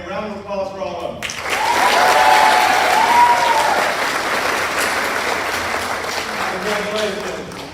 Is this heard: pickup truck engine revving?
no